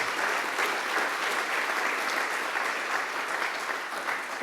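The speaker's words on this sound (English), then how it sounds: "Let's give a big round of applause for my diamond sponsors." A large audience at a global supply chain summit claps in a steady, even round of applause, heard alone without talk and holding at a constant level throughout.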